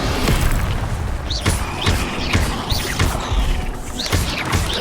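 Incendio fire spell bursts in Hogwarts Legacy, a series of sharp whooshing blasts and impacts repeating roughly every half second to second over continuous combat noise, loud and close.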